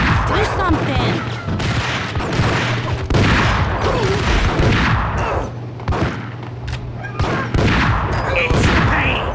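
Bursts of gunfire in a Max Payne video game cutscene, loud repeated shots and booming crashes over several seconds, with voices talking underneath.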